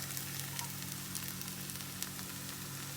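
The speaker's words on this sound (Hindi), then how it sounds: "और अब मैं डालने जा रही हूँ 500 ग्राम गुड़। इसमें डालूंगी और गुड़ को मेल्ट करेंगे।" Jaggery melts in a pan with ginger paste, giving a steady close sizzle with faint crackles and pops throughout, no voices.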